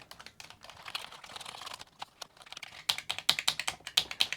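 Keys pressed on an Amiga 500 computer keyboard with dirty contacts: sparse clicks at first, then a quicker run of sharp, close taps.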